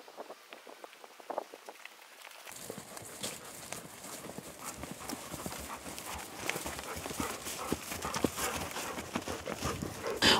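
Several horses walk single file in a convoy led along on foot, hooves clip-clopping in a steady, uneven patter that starts faint and grows louder and denser, with dogs trotting alongside.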